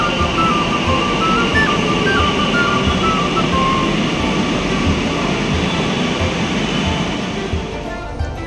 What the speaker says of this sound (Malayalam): മെട്രോ വരുന്നുണ്ട് മക്കളെ, നമുക്ക് കയറണം.